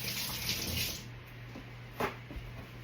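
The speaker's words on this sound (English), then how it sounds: "I'm going to go rinse my hands." Running tap water in a kitchen as hands are rinsed, a steady faint hiss of flow with a few soft splashes and knocks.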